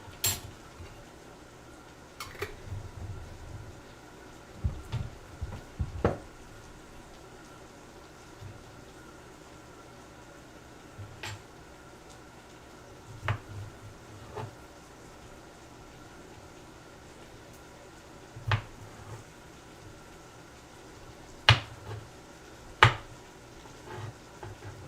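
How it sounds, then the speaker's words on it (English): Knife chopping and mincing pickle chips on a board, heard as scattered sharp taps and short bursts of rapid cutting with pauses between them, over a low kitchen hum. "Mincing up my pickles now. I'm sure you hear the chopping."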